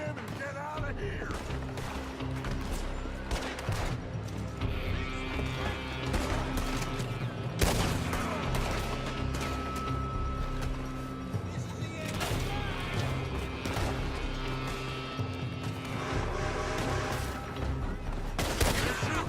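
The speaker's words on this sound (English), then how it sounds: "They're shooting from that building." Gunfire from a building in Red Dead Redemption 2, a scattered fusillade of sharp shots and crashes, some bursts loud and others more distant, heard under frequent shouting and talking voices.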